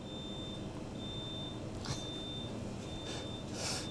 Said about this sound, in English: There's the alarm again.